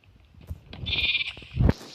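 A lamb bleats once, a wavering, nasal cry held for about half a second, close by, with faint shuffling and a soft thump around it.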